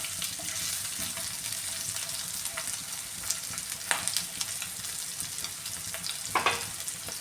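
Fish pieces for Kerala-style fish pickle sizzle steadily in hot oil, a continuous close crackle with a few louder spatters and stirring clinks, no one talking.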